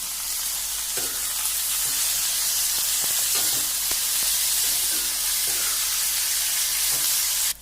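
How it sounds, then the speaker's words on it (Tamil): Small onions, about 100 grams, sauté in a pan for bitter gourd thokku, a steady loud sizzle and hiss with occasional scraping stirs against the pan, no talking. "வெங்காயம் வந்து 100 கிராம் சின்ன வெங்காயம். இதையும் சேர்த்து நல்லா வதக்கணும்."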